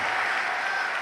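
A congregation applauds during a church worship service, a steady, dense wash of many hands clapping together, loud and sustained throughout with no break.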